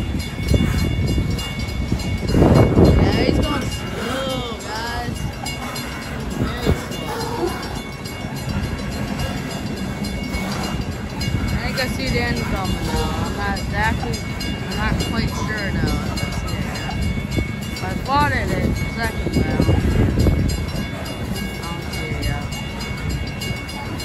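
A loaded BNSF coal freight train rumbles past steadily with rail clatter and a faint horn, while a person talks over the continuous noise.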